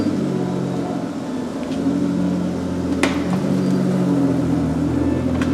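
An Aston Martin sports car engine idles with a deep, steady burble, low and rumbling throughout, with a couple of brief clicks near the middle.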